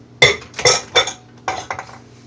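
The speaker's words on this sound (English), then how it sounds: "Let me move my bowl out the way." A mixing bowl is moved around on a kitchen counter while biscuit dough is being made, giving several close, sharp clinks and knocks spaced over about two seconds.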